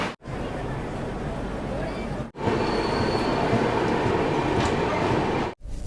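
The Sealdah Rajdhani Express rolls into Dhanbad station, with a loud, continuous rumble of wheels and carriages and faint squeal, briefly interrupted by two short gaps.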